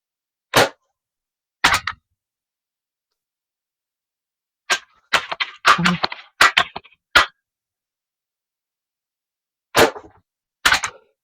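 Crosman Legacy 100th Anniversary Edition pump air rifle firing, several sharp isolated cracks spaced seconds apart with a short clattering burst in the middle, close and loud against near silence.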